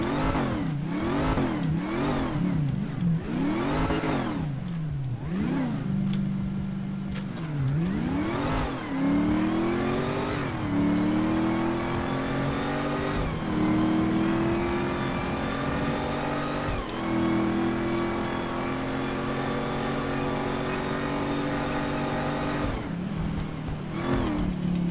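Supercharged car with modded engine sounds in the GTA 5 video game launches hard, its engine revving up and shifting through gears in rising sweeps over nearly 25 seconds, loud and steady with no talk.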